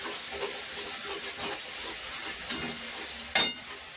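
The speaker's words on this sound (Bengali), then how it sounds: "মশলাগুলো ভালো করে কষে নেব একসাথে, যতক্ষণ না তেলটা না বেরোচ্ছে" Spices, onion, garlic and ginger sizzle steadily in hot oil while being stir-fried, a close, continuous crackling hiss with a sharper spatter near the end.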